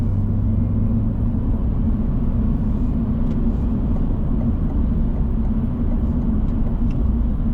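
A GMC Sierra EV AT4 electric truck accelerates onto a freeway, giving a steady loud cabin rumble of road and wind noise with a faint whir throughout, no engine roar.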